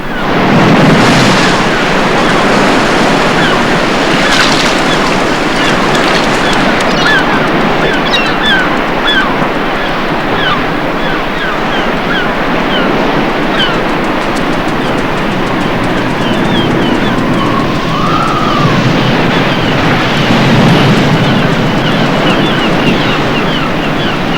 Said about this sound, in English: the long Atlantic rollers, driven by December gales, incessantly pound the north side of the estuary at Saunton Sand